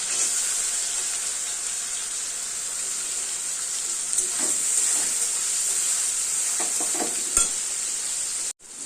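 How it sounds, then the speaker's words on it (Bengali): Chopped onions sizzling in hot oil in a frying pan after prawns were fried, a steady bright frying hiss with occasional stirring scrapes, ending in an abrupt cut. "পেঁয়াজ কুচিগুলো দিয়ে দেবো"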